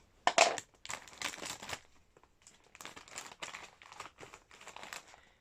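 Individually wrapped Asian snack packaging is cut open with large scissors, giving a string of close crinkling and crushing bursts of plastic that come in irregular clusters with short pauses between them.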